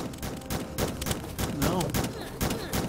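A spread-shot weapon fires repeatedly in the video game Starbound, dense bursts of blasts and thumps following one another in quick succession with no pause.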